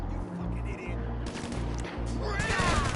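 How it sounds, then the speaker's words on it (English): Rapid gunfire bursts crackle in quick succession over a droning background in GTA Online's Cayo Perico Heist, with sharp electronic impacts and a rising whine near the end. "Judging from the gunshots, they have seen you."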